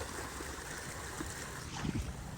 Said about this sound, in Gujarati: અહીંયા કેટલું પાણી જાય છે